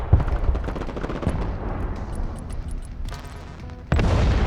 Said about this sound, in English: The Terminator shooting straight down the road with its ATGMs.